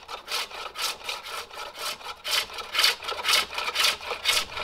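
Forged hook tool taking a final hollowing pass through a wooden bowl on a pole lathe, with rhythmic scraping cuts repeating about every half second, close and steady, with no talk.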